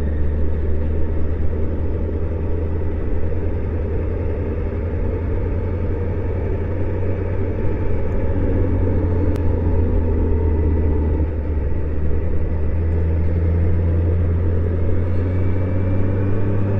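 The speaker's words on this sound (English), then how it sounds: "Hello, truck. That's a nice truck." A truck rumbles past with a steady low engine drone that stays fairly loud and even throughout, and there are no voices.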